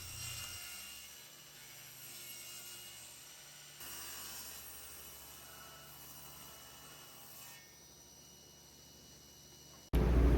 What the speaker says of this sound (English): I'm now cutting those boards to 1/2 inch.